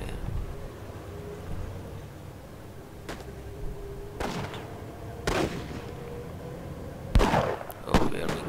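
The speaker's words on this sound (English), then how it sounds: "Oh, we are being fired at already." Scattered gunfire and artillery blasts from the World War II strategy game War Leaders: Clash of Nations sound in the German campaign: about five sharp reports spaced irregularly, some close and heavy, others more distant.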